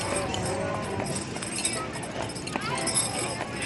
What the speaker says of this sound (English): Hurry, beat the horse, beat it!